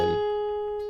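A guitar plays a note from a bar of a song. One clear, sustained tone rings close and alone for about a second, and a fresh pluck comes right at the end.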